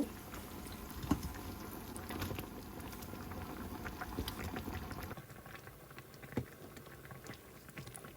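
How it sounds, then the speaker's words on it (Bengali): Liquid comes to a boil in a pot for a sweet sticky rice cake, a soft, continuous bubbling and burbling with occasional small pops, heard close but fairly quiet and without talk. "বলক চলে আসছে"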